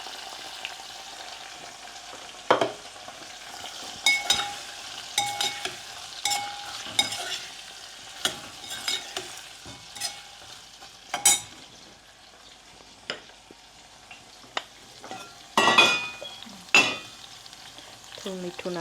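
Peanuts frying with tomato and ginger in a pan, a soft steady sizzle broken by repeated scraping stirs and occasional sharp clinks of the spoon against the metal.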